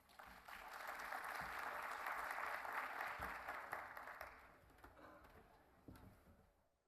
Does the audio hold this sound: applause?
yes